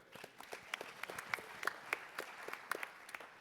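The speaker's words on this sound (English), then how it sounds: "Let's give him a round of applause again." Audience at a sports tourism forum on Qatar and California applauds a multiple Olympian, a sparse, fairly faint scatter of individual claps with no voice on top.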